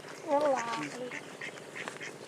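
A released duck gives a few loud, close nasal quacks on the ground during a village duck-catching game, followed by fainter calls and background voices.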